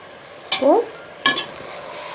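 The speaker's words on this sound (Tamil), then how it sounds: "இந்த மசாலா எல்லாம் நல்லா கோட்டாகிற மாதிரி சிக்கனை நல்லா கலந்துக்குங்க." Masala-coated country chicken being stirred in a hot pan, two sharp scraping strokes with a spoon against the pan over a soft, steady sizzle, close and fairly loud.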